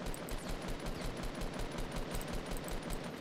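Rapid automatic gunfire in the Fortnite battle royale game, a fast regular train of shots repeating evenly throughout, moderately quiet with no talk.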